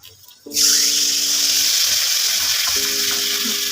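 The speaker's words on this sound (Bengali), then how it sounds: "এখানে আমি আলুর সাথে সাথে পটলটাও দিয়ে দিয়েছি তো পটলটাও আমার ভাজা ভাজা হয়ে গেছে" Potatoes and pointed gourd frying in a wok on a gas stove burst into a loud, close hiss of sizzling oil after a short quiet start, then keep crackling steadily under a faint hum.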